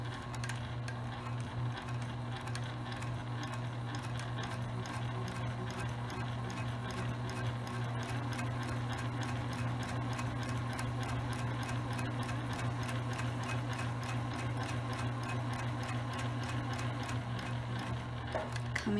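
A sewing machine stitches fabric for a drawstring bag in a continuous rapid mechanical rattle with steady motor hum, close and unbroken throughout, with no talking.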